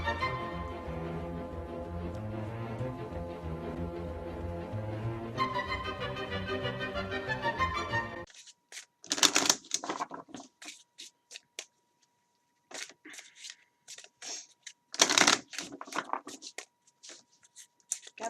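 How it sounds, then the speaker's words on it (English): Harry Potter: Diagon Alley game cards are shuffled by hand, giving a couple of short, dry riffling bursts with quiet gaps between them, after a stretch of music. "And shuffle it up"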